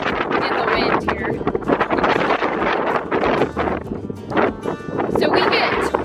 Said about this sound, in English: they probably can't hear me because the wind is so bad